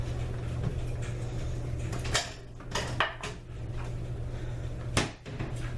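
Kitchen cupboard opened and a bowl taken out while baking blueberry muffins: a few sharp clacks and clunks of wood and dishware, close by, over a steady low room hum with no talk.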